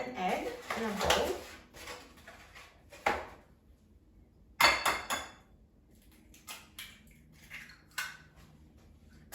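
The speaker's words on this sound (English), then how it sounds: "And now I'm going to crack an egg in a bowl." An egg cracked against a bowl in a kitchen while preparing air fryer breaded turkey cutlets, heard as a few sharp taps and knocks among other handling noises, with a voice talking over much of it.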